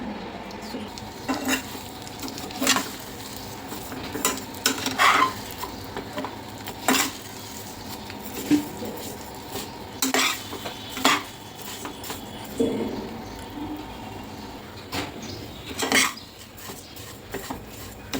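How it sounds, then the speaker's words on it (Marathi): Vermicelli stir-fried in ghee in a wok for sevaiya upma, with repeated scraping and clinking of a spoon against the pan over a soft background sizzle, close and unhurried. "तर आता मी इथे शेवया परतून घेते"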